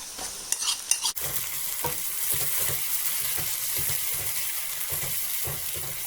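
Steady sizzling and frying as chicken goes into a hot pan, with a few louder clatters and splashes at the start, then continuous hissing with soft rhythmic stirring.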